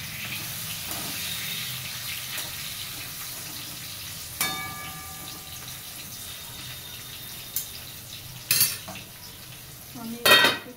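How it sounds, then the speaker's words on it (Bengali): Potatoes fry with a pinch of turmeric in a pan, giving a soft sizzle under clinks of a utensil against the pan and a few sharper metallic knocks toward the end. "আলুটা একটু ভাজা হয়ে যাবে"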